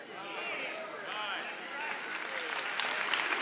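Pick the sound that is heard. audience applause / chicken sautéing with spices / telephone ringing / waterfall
audience applause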